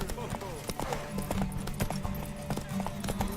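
Horse hooves clip-clop rapidly at a gallop in The Witcher 3 video game, a steady rhythmic patter under spoken dialogue and background game music.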